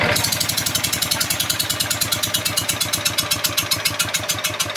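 A Mitsubishi, Kubota or NF engine, of the kind used to drive a water pump, runs steadily at close range. It gives a loud, rapid, even knocking pulse throughout with no speech over it.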